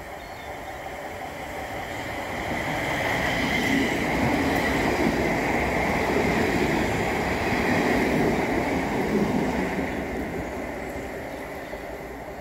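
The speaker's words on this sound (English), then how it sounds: "That's my train." A train passes through Salford Crescent station, a loud rumbling roll of wheels and carriages that swells to a peak midway and then eases slightly, with a faint squeal of wheels on rails and no talking.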